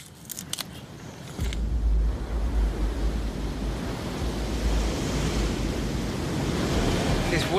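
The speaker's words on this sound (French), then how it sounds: "Il y a beaucoup de vent aujourd'hui et l'eau est très agitée." Strong wind buffets the microphone over a constant roar of rough sea, with a few sharp knocks at the start.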